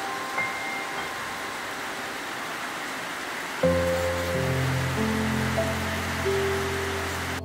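Steady rain patters on a surface in an apiary, a soft continuous hiss, joined midway by a faint low hum.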